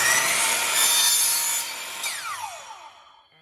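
A power tool cuts the tip off a plastic plunger handle, giving a loud, harsh grinding rasp that holds for about two seconds, then tapers into a falling whine as the blade spins down.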